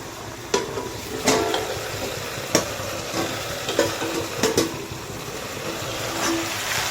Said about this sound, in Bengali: এখন নাড়াচাড়া করে দিই